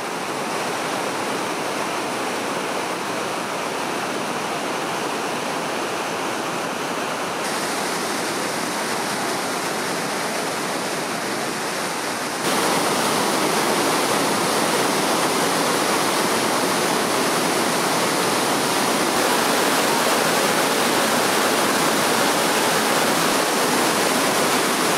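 Fourteen waterfalls plunge over 100 meters at the Devil's Throat, the deepest section of Iguacu Falls, producing a loud, unbroken roar of rushing water that stays steady throughout and grows even louder partway through.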